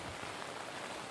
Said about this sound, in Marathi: कोकणात पावसाचा जोर वाढला आहे.